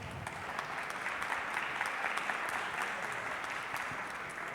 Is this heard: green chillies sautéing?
no